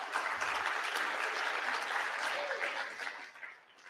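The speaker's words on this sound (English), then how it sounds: "Thank you for the applause" A Bitcoin conference audience claps for a race car driver taking the stage, a steady wash of applause that fades out over a few seconds.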